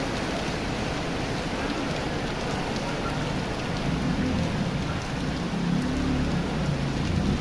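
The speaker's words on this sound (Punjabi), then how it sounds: "ਬਹੁਤ ਜ਼ਿਆਦਾ ਮੀਂਹ ਹੈ" Heavy monsoon rain pours down steadily at 9 a.m. in Gurdadi village, Mansa district, Punjab, a dense continuous roar of drops drumming on surfaces, with no talking.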